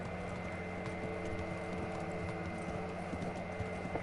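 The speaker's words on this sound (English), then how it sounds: "I've got a fast horse." Horse hooves gallop in a steady, rapid rhythm through the medieval game Kingdom Come Deliverance, set against a constant background hum with no talk.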